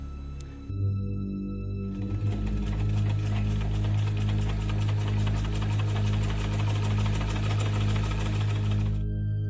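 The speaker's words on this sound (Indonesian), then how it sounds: "dia kembali ngedenger suara mesin jahit yang nyala itu" An electric sewing machine runs continuously as a horror-story sound effect. The fast, even mechanical whir and clatter starts after a brief stutter and stops abruptly near the end.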